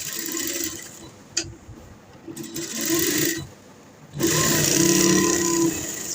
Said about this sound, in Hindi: दूसरी तरफ भी हमने इसकी सिलाई इसी तरह लगा लेनी है।